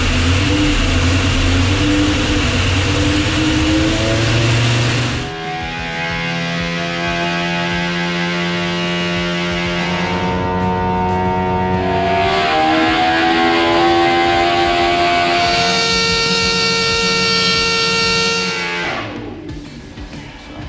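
Loud Toyota Supra's 4-liter GV4 V10 engine roaring under load on an engine dyno, holding steady revs, then sweeping up through rising pitches in long pulls before easing off; close and continuous.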